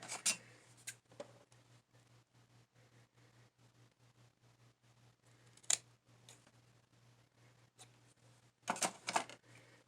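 Scissors trim fabric for a slow-stitched collar in a quiet room, making scattered soft snips and rustles, with a couple of sharper cuts and a louder burst near the end.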